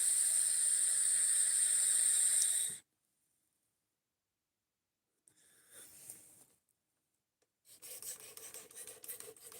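A knife is drawn across a whetstone in a sustained gritty, hissing rasp up close, then goes silent, followed by a short scrape and another rough rubbing pass.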